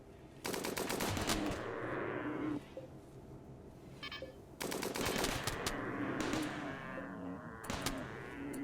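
Turret gunfire in Rimworld, played on an ice sheet map, pouring into a charging Thrumbo: three loud sustained bursts of rapid automatic fire, separated by short gaps filled with quieter game sounds and a few small beeps.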